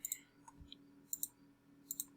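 Computer mouse clicks in an image editor while painting shadows on a maternity backdrop with flowing skirt, a few sharp close clicks in small pairs spaced over about two seconds, faint and alone in a quiet room.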